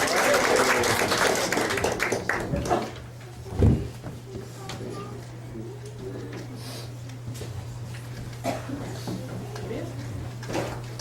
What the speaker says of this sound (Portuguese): Então recebam com uma salva de palmas nosso amigo